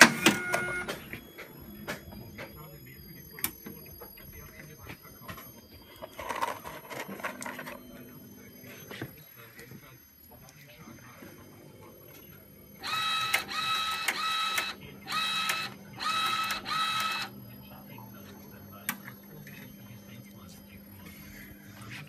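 A Zebra ZE500 printer with a LAB400 applicator labels SD cards, giving short mechanical bursts and a low motor hum while a person talks over the machine.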